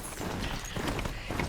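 Horse hooves clip-clopping in Horizon Zero Dawn, a steady galloping patter of repeated soft thuds, moderately close, without talk.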